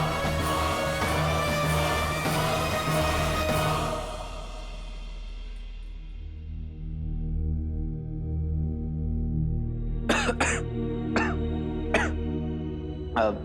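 A man breaks into a short series of about four harsh, sharp coughs near the end, after background music fades to a low hum in a dramatic scene.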